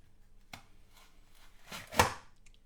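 An Aldi food chopper cuts through a carrot with a few soft chops, building to one sharper, louder chop near the end. The sound is close and fairly quiet.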